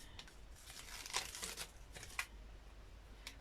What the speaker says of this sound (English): you literally just peel off your double-sided tape